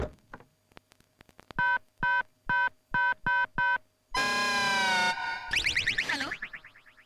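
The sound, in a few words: telephone number being dialed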